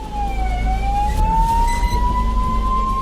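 An ambulance siren sounds on a road where an elephant stands in the way, a single loud, slowly rising wail close by over a low engine rumble.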